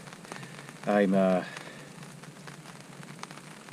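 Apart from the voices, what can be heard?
rain falling on a tarp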